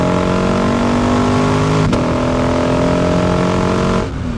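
A 2012 Lexus IS F V8 sedan revs hard under heavy acceleration, its loud engine note climbing steadily in pitch with a brief shift blip midway before the throttle lifts near the end, no voices over it.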